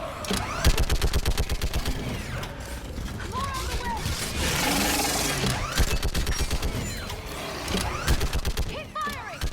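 Gunfire rattles through a Mass Effect 3 battle in long rapid bursts of automatic fire, loud and close, broken by a brief lull with mechanical noise before the shooting resumes, with voices shouting over it.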